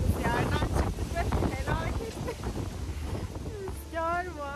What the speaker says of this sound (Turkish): felaket rüzgar var, dolu yağıyor